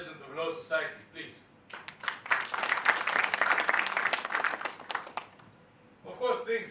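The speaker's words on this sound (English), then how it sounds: "I believe he deserves a round of applause for serving us as the president of Law Society" An audience at a law firm event applauds the outgoing Law Society president with a dense burst of clapping lasting a few seconds, and a speaking voice comes before and after it.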